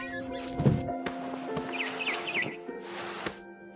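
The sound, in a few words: barn swallow chirping, What Remains of Edith Finch video game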